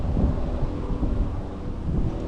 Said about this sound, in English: Plus, it's very windy out here.